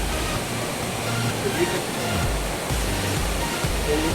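Rushing water from a waterfall reached on a four-hour jungle trek near Valparai, a steady broadband roar filling the whole stretch, with low rumbling underneath and faint voices mixed in.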